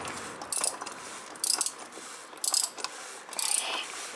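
A ratchet wrench tightens the oil filter housing on an Opel/Vauxhall Corsa C engine during an oil change, giving four short bursts of rapid clicking at even intervals, close and fairly loud, with no talk.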